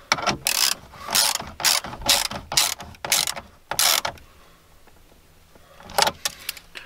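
A ratchet tightens a bolt inside the dash of a 2020 Ford F350 6.7 Powerstroke pickup: a close, loud run of rapid clicking bursts, a brief pause, then one more burst near the end.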